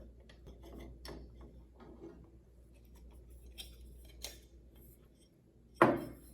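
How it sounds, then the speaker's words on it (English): A broken Tyco tamper-resistant sprinkler head is unscrewed, giving faint metallic clicks and scrapes at a steady pace with a sharper clunk near the end, quiet and close with no voices. "So when you unscrew the sprinkler head,"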